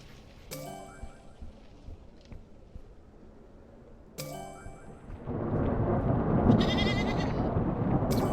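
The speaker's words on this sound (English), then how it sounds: "And that goat is still following me around." A video game goat bleats twice, short and nasal, with a long quiet gap between, followed by a burst of rushing noise and another faint bleat, in Airport Renovator.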